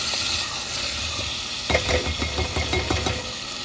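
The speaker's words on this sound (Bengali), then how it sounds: "আদা বাটা দিয়ে খুব ভালো করে নেড়ে চেড়ে নেব" Ginger paste is stirred in a hot cooking pan for dum aloo, with a steady sizzle and frying hiss that gives way to a few quick scraping stirs, close and loud.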